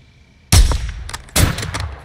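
Two sharp, loud gunshots ring out close by in Call of Duty Modern Warfare 2, each blast trailing off with a short echo, with a faint click between them.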